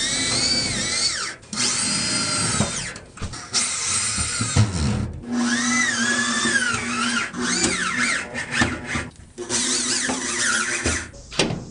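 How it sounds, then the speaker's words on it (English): A power drill drives self-tapping screws into a car floor pan during a brace dent repair, high whining bursts rising in pitch as each screw bites, separated by short pauses, loud and close. "Now I'm going to use some self-tapping screws before welding this in."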